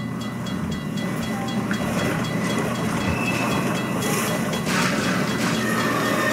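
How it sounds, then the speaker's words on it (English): A subway train rushes past in the video game Half-Life 2, a loud, steady rumble and hiss with faint rail clatter that holds throughout, with no talking. "Oh shit, there's a train coming."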